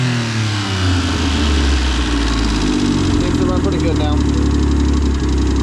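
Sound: Subaru Justy engine running as gas pedal is pressed

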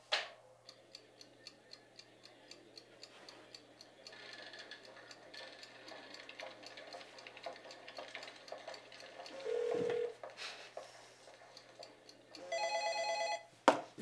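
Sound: telephone ringtone ringing, from 1-2-Switch video game

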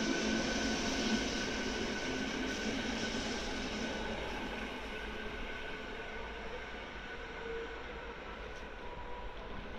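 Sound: passenger train at Praha-Podbaba station

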